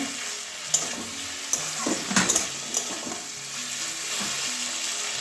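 Snail curry with water spinach sautéing in a pan, a continuous bubbling sizzle broken by a few sharp spatula clanks and stirring scrapes, close and without talk.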